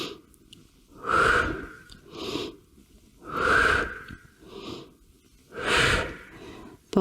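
Heavy exercise breathing during a trunk-lifting workout, loud gasping inhales and exhales alternating in a steady rhythm close to the microphone, with no voice over them.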